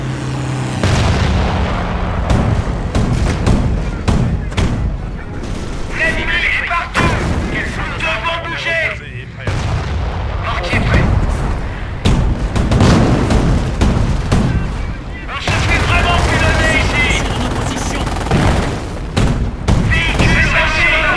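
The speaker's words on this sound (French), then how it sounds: "Prépare un barrage de mortier." Mortar barrage in the World War II strategy game Company of Heroes, with repeated loud booming launches and blasts layered into a dense, continuous roar of battle, gunfire crackling throughout.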